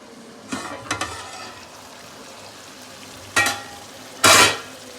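Half-cooked potatoes frying in a pot of oil for vegetable chicken pulao, a low steady sizzle broken by a few sharp stirring scrapes and louder bursts near the end, with no talking.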